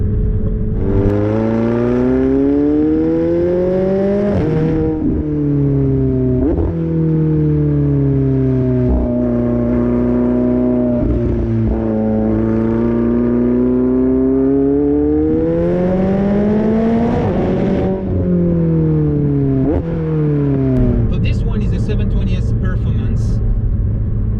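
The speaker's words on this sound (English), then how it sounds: "So I have a sport exhaust system. It's stock. It comes from McLaren" A loud, close 2019 McLaren 720S engine with stock sport exhaust revs up and down repeatedly, its deep exhaust rumble rising and falling in long sweeps.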